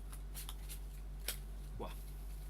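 Tarot cards being shuffled during a card reading give a few quick papery riffles and flicks, soft and close, spaced over a couple of seconds with a brief low voice-like sound near the end.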